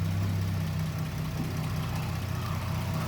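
A 2007 Dodge Charger engine runs at a steady idle-like hum while the transmission is shifted through the gears, with a constant low drone and no talking.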